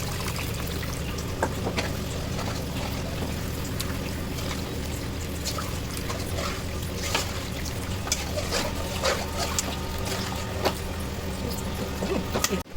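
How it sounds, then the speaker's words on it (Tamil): Water pours steadily into a pan of tamarind fish curry, a continuous splashing trickle, close and fairly loud, with small clinks throughout. "2 டம்ளர் தண்ணி ஊற்றணும்."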